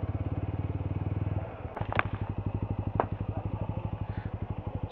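Motorcycle engine idling and chugging at low speed on a crowded narrow hill route on the monsoon ride to Harishchandragad, a close rhythmic thump that dips briefly, then resumes with a couple of sharp clicks.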